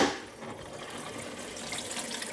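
Water gushes and splashes steadily as it is pumped into a 2-metre aquarium, a continuous close rushing pour with no talk.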